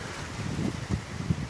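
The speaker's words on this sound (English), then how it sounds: "I'm hoping the wind noise is not too loud here for this video" Wind gusts at an outdoor yurt construction site make a steady rushing roar with low buffeting bursts against the microphone, loud and close, with no talking.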